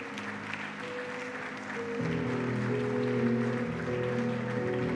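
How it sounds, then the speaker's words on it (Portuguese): A church congregation claps together in a steady, dense wash of applause during a worship service, with sustained keyboard or organ tones playing underneath, growing fuller after the first couple of seconds. "Uma salva de palmas para a honra e glória de Cristo."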